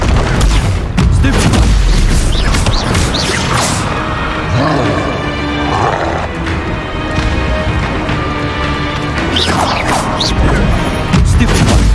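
Confringo explosion spells in Hogwarts Legacy combat: repeated loud booms and crashing impacts pile up amid dense, noisy battle sounds throughout.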